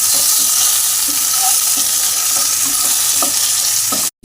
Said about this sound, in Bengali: একটু আদা লঙ্কা আর আলু ভালো করে কষিয়ে নেব